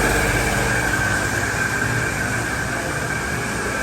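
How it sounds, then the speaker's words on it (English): A loud, steady whooshing drone with a faint high whine runs continuously, like a powerful fan blowing nearby. "There's a fan here, so sorry for the terrible noise."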